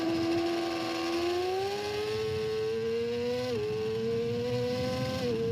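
A motorcycle engine revs hard through a lap of the TT Assen circuit, a continuous high whine that climbs steadily, with brief dips at gear changes. It is loud and close, with no voices over it.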